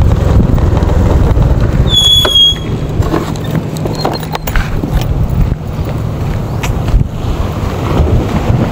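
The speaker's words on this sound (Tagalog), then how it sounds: "Ang lakas ng alon, no?" Strong sea waves surge against the Rojas Seawall Boulevard in heavy wind, a loud continuous roar and wash with gusty buffeting on the microphone, close and without talk.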